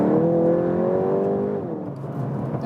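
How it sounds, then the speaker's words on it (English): VW Golf GTI Clubsport 8 in Nürburgring mode downshifting while driving, its exhaust note a smooth rising-then-falling engine drone with tonal harmonics, then settling to a lower rumble, close and fairly loud with no talk. "in the Nürburgring mode we also have a special exhaust note"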